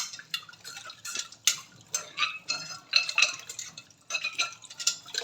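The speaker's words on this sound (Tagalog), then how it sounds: "patuloy pa rin tayong magkiskis na mga stain dito sa ating kaldero" A dark-stained cooking pot is scrubbed in repeated short, irregular strokes, giving scratchy scraping bursts with faint metallic clinks, close and moderately loud.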